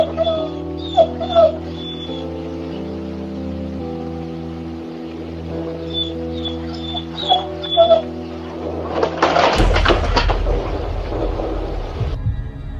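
Two German shepherds left home alone at night, heard through a home CCTV camera, whimper and yip in short, high bursts over a constant low hum. A louder, rougher commotion follows near the end.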